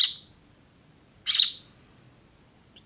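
A young house sparrow chick gives short high chirps, one at the start, a stronger one after a pause and another beginning at the end, close and clear against a quiet room.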